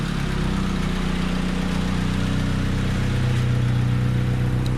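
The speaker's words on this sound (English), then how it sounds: "Idling great." A clean classic car engine idles steadily up close, a smooth continuous low hum with no voices over it.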